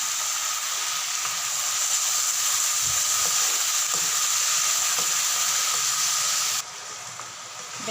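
Cane shoots (betgaj) fry in oil with turmeric and salt, a loud continuous hissing sizzle that holds steady and then drops in level near the end, with a few faint stirring knocks.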